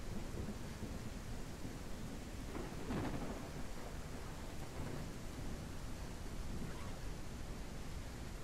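A thunderstorm in the survival video game No One Survived brings steady rain hiss with a rolling rumble of thunder near the middle, moderately quiet and with no talk.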